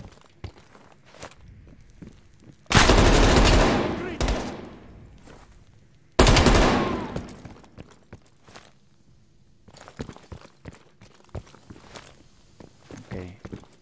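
Gunfire in the Call of Duty: Black Ops Cold War campaign: two loud, close volleys of shots, each ringing out and fading over a couple of seconds, followed by quieter scattered clicks and footsteps.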